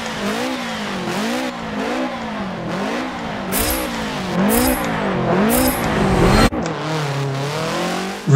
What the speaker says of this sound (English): the Subaru gets off the line neat and true